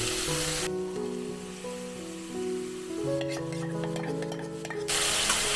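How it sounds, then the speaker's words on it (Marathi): Cabbage drops into sautéed spice masala in a pan for a Maharashtrian cabbage bhaji. A soft sizzle and scraping, stirring rustles follow, with no talk. "ह्यातच आपण कोबी टाकून घेऊया"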